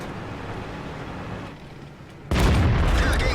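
Tank cannon shot in World of Tanks, a sudden heavy boom about two-thirds through that follows a low rumbling engine bed and then sustains a loud, dense blast.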